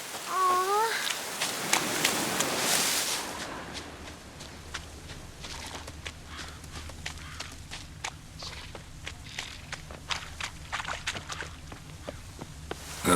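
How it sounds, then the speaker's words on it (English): Rain in the Witcher 3 video game, a soft steady patter under repeated crisp footsteps or hoof-like taps, after a brief loud splashy burst at the start; fairly faint overall with no speech. "Looks like rain."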